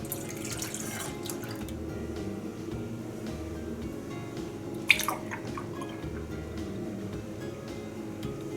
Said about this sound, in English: So I am adding 2 cups of whole milk.